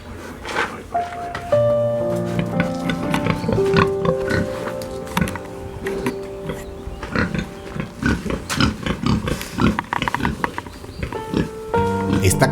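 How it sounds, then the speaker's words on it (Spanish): Pigs in a country-house farm pen grunting and oinking up close, with frequent rustling and shuffling and a tonal music-like hum running underneath. "entré al corral de los cerdos y pude interactuar un buen rato con ellos."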